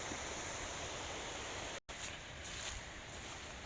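Steady broadband rushing of a mountain stream in the Carpathians at Kvasy, Ukraine, in April fills the whole clip, a constant loud roar with a brief dropout midway and no voices.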